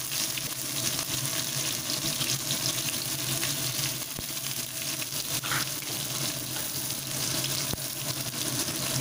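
Potatoes frying in oil with torn green chili and chopped onion added, a dense, loud, continuous hiss close by with a couple of faint knocks from the pan.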